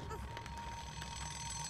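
Alarm clock ringing steadily in the Dead by Daylight video game, a continuous electronic tone running under players talking throughout.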